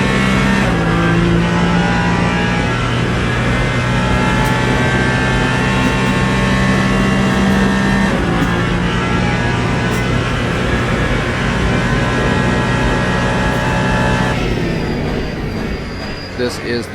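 Onboard a Ferrari prototype in the Le Mans Ultimate sim game at the 24 Hours of Le Mans, the engine screams loudly and steadily down the Mulsanne straight, then briefly drops off near the end.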